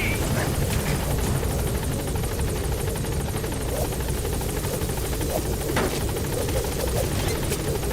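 Pequod's helicopter from Metal Gear Solid V: The Phantom Pain hovers at the landing zone, a steady, loud rotor drone that fills the whole stretch, with a few faint clicks and thuds on top.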